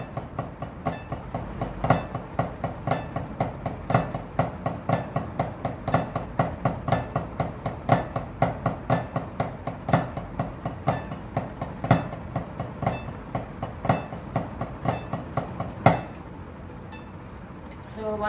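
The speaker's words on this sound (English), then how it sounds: "So now I'm going to play it with the metronome at 60 beats per minute." Sticks tapping steadily on a drum practice pad at 60 bpm with a metronome, producing crisp, evenly spaced close clicks with occasional louder accents, ending with a single stronger hit and brief quiet.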